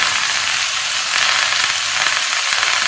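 Curry leaves sizzle in a seasoned cast iron kadai, producing a loud, continuous hiss and crackle that holds steady from start to finish with no talking.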